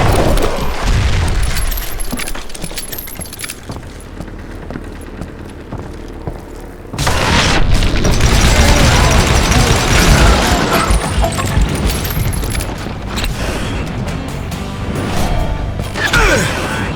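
Dynamite explosions in the Western shooter game Call of Juarez Gunslinger: a heavy blast and crashing debris open, a quieter stretch follows, then another loud sustained boom and rumble.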